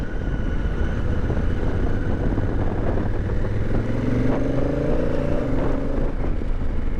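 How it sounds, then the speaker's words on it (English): A Honda Africa Twin motorcycle engine rumbles under engine braking on a morning ride, a steady loud drone mixed with wind, with descending tones as the revs fall. "Engine braking noise is so good."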